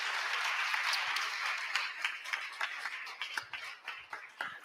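Audience at a language teachers' meetup event applauds, a dense burst of many hands clapping that thins into scattered, fading claps near the end.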